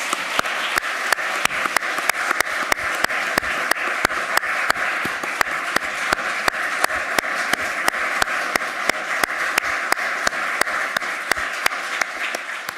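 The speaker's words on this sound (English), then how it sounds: "How about a round of applause for our two wonderful advocates?" A courtroom audience at a moot re-argument session gives a long round of applause, sustained and even, with dense clapping that holds steady for over twelve seconds.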